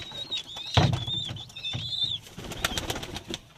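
Pigeons in a large coop coo and call over a steady ventilation hum, with a sudden burst of wing flapping and fluttering partway through, then more soft calls and rustling close by.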